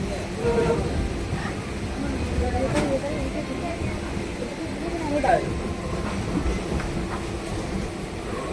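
A moving train rumbles steadily from inside a carriage, with broadband roar, faint rhythmic clatter and a few brief metallic squeaks, voices murmuring underneath.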